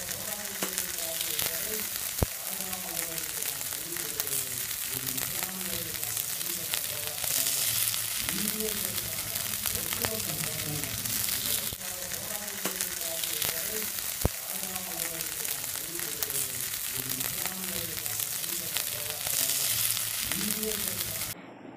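Kuzhi paniyaram batter frying in hot oil in a paniyaram pan, a steady close crackling sizzle with bubbling pops throughout, broken by a couple of sharp clicks and faint voices in the background.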